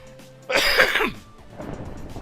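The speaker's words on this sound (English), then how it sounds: "I worked out why I've been coughing so much." A person lets out one sudden, loud, close cough while smoke from nearby back burning hangs in the air. Quieter background noise follows it.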